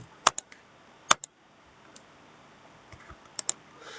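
Mouse buttons on a computer click sharply and close to the microphone, a few isolated clicks then a quick pair, spaced by quiet pauses with no talking.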